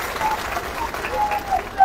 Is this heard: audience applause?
yes